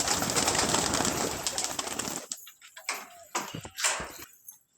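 Pigeons let out of their coop, with soft cooing and bird calls in short bursts after a dense, noisy opening stretch of rustling and flapping.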